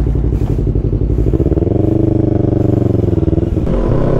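A Yamaha MT-03 motorcycle rides along, its engine note loud and close with a rising rev mid-clip and rough exhaust crackle, no talking.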